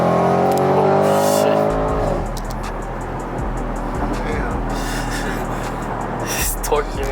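A 2021 Audi RS6 with downpipes, full exhaust and a stage 2 tune revs up with a rising engine whine, then settles into a loud, rumbling exhaust drone with brief crackles, people talking alongside.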